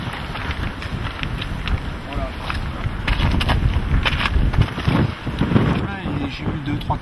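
Strong wind buffets the microphone of a handbike rider crossing the Draa valley in Morocco, a steady loud roar with gusts, while a voice talks over it.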